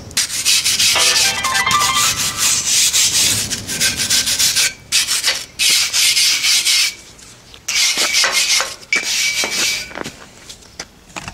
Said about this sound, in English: just getting the loose rust off